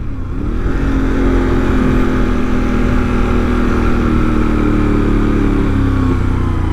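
A motorcycle engine idling and running with a deep, loud, steady throb and a lumpy twin-cylinder exhaust note, like a Ducati L-twin, sustained close up with a slight rise in pitch at the start.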